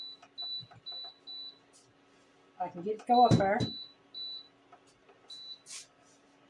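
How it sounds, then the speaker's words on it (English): Kitchen timer being set, a series of short, sharp electronic beeps repeating in quick bursts, with someone speaking briefly in the middle. "So I'm going to set my timer."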